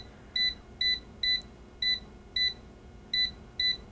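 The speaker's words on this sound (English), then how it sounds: "going to put this in my air fryer. I'm going to push my central button." Air fryer control panel giving seven short, high electronic beeps in an uneven rhythm as buttons are pressed, clear and close over a quiet kitchen background.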